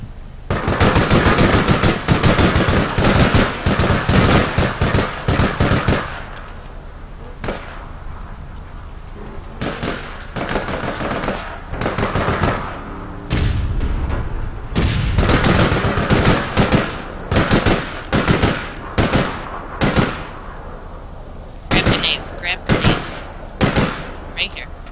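Bursts of automatic gunfire in the online game APB crackle in rapid volleys, pausing briefly and then resuming, loud and close throughout.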